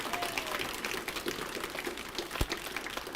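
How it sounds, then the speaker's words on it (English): Audience at a KOBE graduation event for Deer Lake First Nation graduates giving a round of applause, a steady, moderately distant wash of clapping that continues evenly for a few seconds. "let's give them a nice round of applause one more time"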